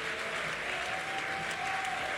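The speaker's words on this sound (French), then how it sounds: "En effet, on peut les applaudir." A debate audience gives steady, even applause, a continuous wash of many hands clapping at moderate distance with no clear voices on top.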